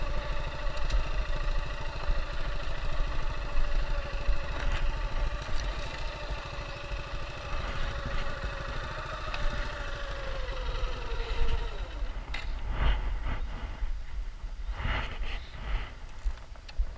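Motorcycle engine idling steadily at close range near a mangrove fishing spot, a continuous low rumble with a humming tone that drops off partway through, followed by a few clunks and rattles.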